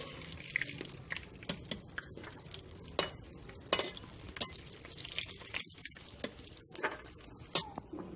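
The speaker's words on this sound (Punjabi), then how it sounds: "ਅਤੇ ਹੁਣ ਆਪਾਂ ਇਹ ਫਰਾਈ ਕਰ ਲਏ ਆਪਣੇ ਡਰਾਈ ਫਰੂਟਸ ਹੀ" Dry fruits frying in desi ghee for atta ladoo while a spoon stirs them, giving a steady low sizzle with repeated sharp scraping clicks scattered through, close and without talk.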